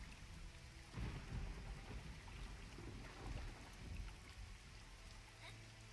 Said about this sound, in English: You'll notice that it's raining